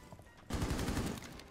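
Rapid gunfire in Rainbow Six Siege bursts in at about half a second and rattles on loudly for most of a second before trailing off, with no voices over it.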